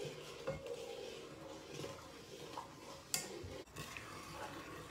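Sugar going into butter melting slowly in a pot for Christmas cookie baking, stirred with a utensil that scrapes and clinks against the pot, with one sharper clank partway through, close and fairly quiet.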